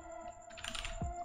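Brief bursts of typing on a computer keyboard, a few quiet key clicks close up over a faint steady hum.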